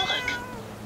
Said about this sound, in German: Aber eine Katze haben wir, hallo!